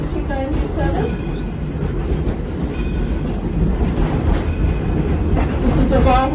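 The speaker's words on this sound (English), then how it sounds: "This is a Baldwin locomotive using coal for the fuel." A coal-fired Baldwin steam locomotive built in 1897 rolls close by, giving a steady rumble with rhythmic wheel clatter and occasional squeals throughout.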